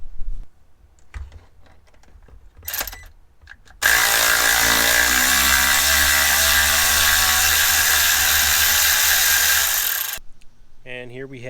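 A power tool unbolts an E10 bolt holding the knock sensor on a SeaDoo engine block, a loud steady whir of several seconds framed by scattered clicks and handling noises, with a voice before and after.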